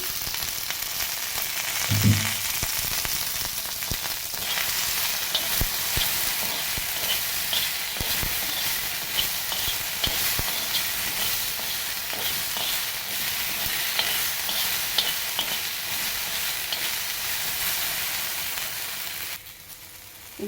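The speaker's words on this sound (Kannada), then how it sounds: "ಒಂದು ಸ್ಪೂನ್ ಆಯಿಲ್ನ ಹಾಕಿಬಿಟ್ಟು ಹುರ್ಕೊಳ್ಳಿ" Chopped okra fries in a spoon of oil for chutney, a steady close sizzle running continuously with intermittent scrapes and knocks of a spoon stirring through the pan, no talk over it.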